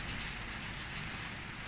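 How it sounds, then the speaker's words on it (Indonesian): Steady rain pours down outside through an afternoon into evening, a dense continuous hiss of drops on surfaces with no breaks, close and even, with no voices. "Hujan dari siang tadi sampai petang nih hujan."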